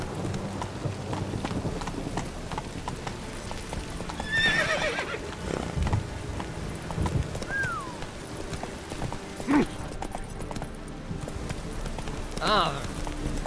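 Roach, Geralt's horse in The Witcher 3, clip-clops at a steady gallop through open country, letting out several whinnies and neighs along the way while a voice speaks over the hoofbeats and faint rumbling weather sits in the background.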